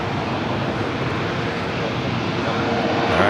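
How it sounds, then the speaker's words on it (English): An Emirates Airbus A380 taxis across runway 25 left at LAX, a steady broadband engine roar holding at a constant level throughout, with no distinct talk. "We do have the Emirates A380 waiting to cross over 25 left."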